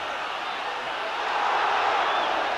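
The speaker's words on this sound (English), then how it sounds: "the Hull crowd roars up as soon as they see an attacking position and ball possession" A crowd at a 1976 Hull rugby league cup final at Headingley swells into a broad, distant roar that keeps rising over a few seconds.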